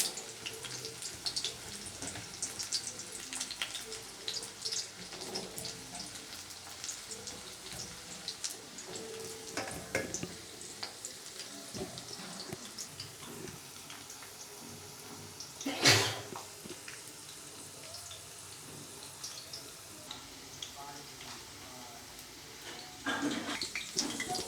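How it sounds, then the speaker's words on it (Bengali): Pumpkin pieces fry in hot oil in a wok on a gas stove, making a faint, continuous crackling sizzle with scattered pops and one brief louder burst midway. "কুমড়োগুলো ভেজে নেব।"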